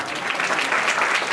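Crowd at a live devotional music event in Ludhiana applauds in a steady wash of clapping that holds at an even level from start to finish.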